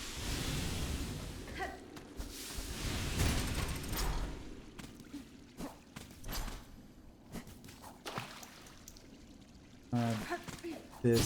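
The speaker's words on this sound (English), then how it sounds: "We appear to have running water." Running water pours in the Silksong video game, a broad splashing rush with scattered clicks and footsteps, fading and swelling over several seconds.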